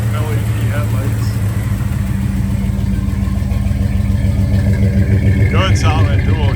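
A 1971 GMC K1500 pickup's engine idles steadily through dual exhaust with a deep, even rumble, and someone talks over it.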